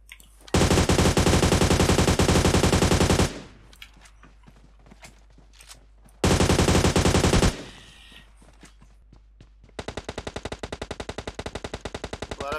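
Automatic weapon fire in the PUBG Mobile game: a long rapid burst, a pause with scattered clicks, a second shorter burst, then another sustained stretch of quicker, lighter shots, all loud and close.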